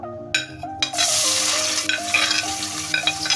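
Roughly chopped onions hit a hot pot for a Pakistani bhtou taki dish, a loud sizzle bursting in after a couple of clanks, then continuous frying with stirring scrapes, near and with no talk.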